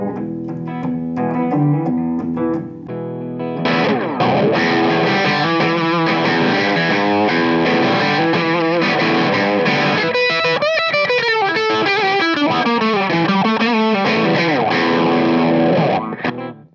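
An electric guitar runs through a T-Rex Gull Wah pedal with heavy distortion, playing sustained, loud, continuous lines that sweep in tone throughout, with no talking.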